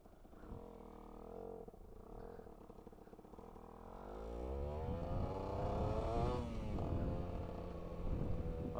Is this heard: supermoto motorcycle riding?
yes